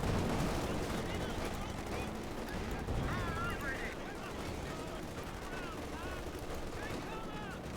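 Tank cannon and infantry small-arms fire crackle in a Company of Heroes 2 battle featuring a Panther and Grenadiers, a dense continuous barrage of distant shots and bursts with a commentator talking over it.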